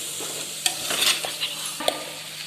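Prawn mixture for fried rice stirred and frying in a pan, a steady low sizzle broken by a few sharp spatula scrapes and knocks, close and moderately loud.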